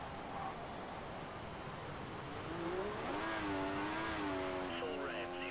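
A Formula 1 car engine in the F1 2014 racing game screams at full revs, its pitch climbing and wavering steadily through shifts, loud and continuous for the whole stretch.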